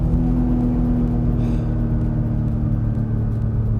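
A turbocharged 675 hp BMW E36 M3 engine pulls hard under acceleration, a loud, steady droning rumble that holds close and constant throughout with no talk over it.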